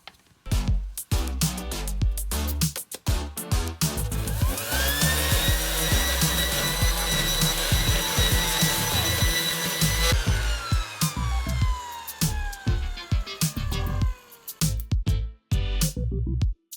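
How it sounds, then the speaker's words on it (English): A power sander wet-sands a rusty cast iron drill press table top, its motor whining steadily at close range, with rough scraping bursts where it starts and stops. "Wet sanding also helps keep the dust down."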